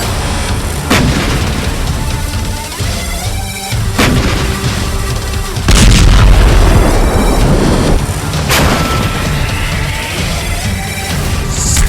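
Heavy artillery firing 155 mm shells in the war in Ukraine, with loud booming blasts repeating about every two to three seconds over a constant rumbling battlefield background.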